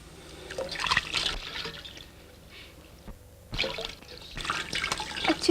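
Water running from a tap, heard as faint, uneven bursts of splashing and trickling with a quieter lull in between.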